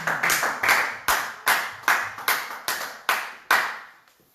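A church congregation claps together in a rhythmic burst of about ten sharp, evenly spaced beats, loud and close, with no talking over it.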